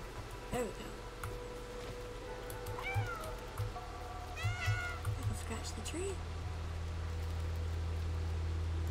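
A small cat meows several times in the video game Stray, bright rising mews spread across the clip over a steady rain-like background hiss and a low hum.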